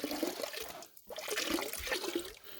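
Water pours and splashes steadily over a gold cube sluice as dark sands are washed through while prospecting, a continuous rushing wash with a brief pause midway, fairly faint.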